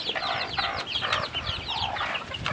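Farm chickens cluck and chatter continuously, several birds overlapping at close range against a busy background of other fowl noise.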